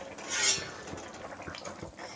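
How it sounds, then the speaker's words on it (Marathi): A metal lid is lifted off a pot of cooked pea and potato bhaji, giving one brief scraping clatter of metal on metal, followed by quiet, faint rubbing sounds. "आपण झाकण काढून उघडून बघूया."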